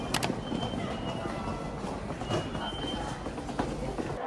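A Shinkansen bullet train rides along its rails, giving a low, steady rumble with faint rattles and a few sharp clicks, heard from inside the carriage.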